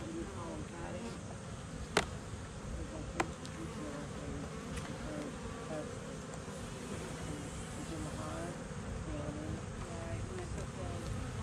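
Honey bees buzzing around a beehive, a faint steady hum close by with a couple of sharp knocks and quiet talk underneath.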